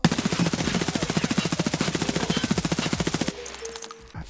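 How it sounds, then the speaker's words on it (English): An AK rifle fires full auto in the Escape from Tarkov video game, a long rapid burst of evenly spaced loud shots for about three seconds, then stopping abruptly into quieter ambient tones. "This is now the AK full auto."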